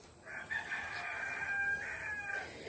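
A white rooster crows in a long drawn-out call, answered by a second crow, with hens clucking faintly in the background.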